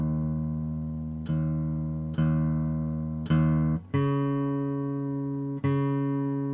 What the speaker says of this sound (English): I cannot get this thing in tune, and it's going to just sound awful if I don't